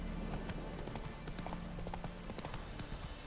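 Horse hooves clip-clop steadily on the ground in The Witcher 3, a dense continuous rhythm of close hoofbeats under a busy game soundscape, with no clear talk.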